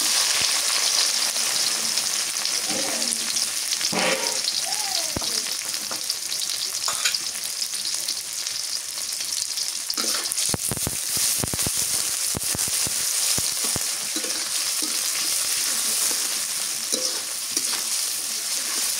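Onions frying in hot oil for a home-cooked rooster curry, a steady close sizzle throughout with occasional stirring clatter and scrapes of a utensil against the pan, no talking.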